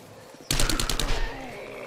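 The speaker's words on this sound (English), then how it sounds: "Oh joy, fireworks." A sudden burst of rapid crackling pops from fireworks going off outside, loud for under a second before settling into a lingering rumble.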